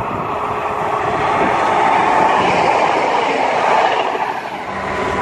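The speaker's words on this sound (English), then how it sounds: "passing through extremely early now is going to be a Turbo Star from Cardiff to Nottingham" A Class 170 Turbostar diesel unit from Cardiff to Nottingham passes through Bromsgrove station, a loud, steady roar of engine and rolling wheels that swells and holds for several seconds before easing slightly.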